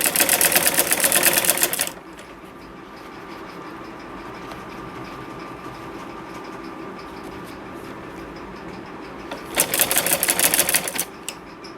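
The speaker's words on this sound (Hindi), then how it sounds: "हम इसके किनारे के ऊपर से सिलाई लगाएंगे।" A sewing machine stitches along the hem edge of a salwar in steady, fast mechanical clatter, loud at the start and end with a quieter hum in between.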